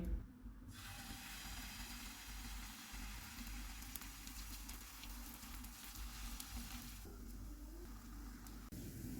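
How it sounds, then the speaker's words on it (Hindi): Besan paratha batter spread on a ghee-greased tawa over a low flame, giving a steady broadband sizzle that fills the clip with an even, close hiss and no talk. "तवे पे घी लगाएंगे। तवा गर्म हो गया, चूल्हे को मैंने कम रखा हुआ है। इस पे बैटर डालेंगे।"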